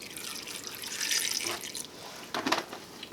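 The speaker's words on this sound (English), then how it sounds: "just a splash of milk." A small splash of milk is poured into a pot of panfish chowder, giving two brief liquid pours with faint splashing, close and fairly quiet, with no talk.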